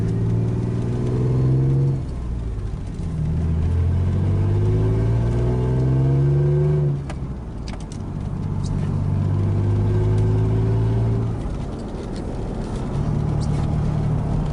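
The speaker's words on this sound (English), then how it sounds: "Runs pretty good for an old truck." An old high-mileage truck engine with nearly 350,000 miles runs steadily close by, its low rumble holding even with a couple of brief revs and dips partway through.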